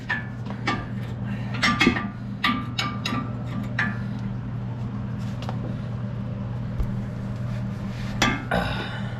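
Hammer blows knocking the outer tie rod end loose on a Ford F-150 during a rack and pinion replacement: sharp metallic strikes, some in quick pairs, scattered over a steady low hum.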